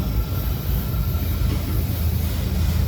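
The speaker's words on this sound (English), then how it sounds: "I hear a DPU. It's gonna be a loud one." A Norfolk Southern freight train with a DPU locomotive passes close by in the rain on wet rails, a loud, steady low rumble of engines and rolling cars filling the whole clip.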